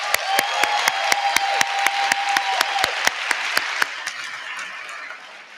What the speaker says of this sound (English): Please join me in a round of applause or recognition for today's organizers.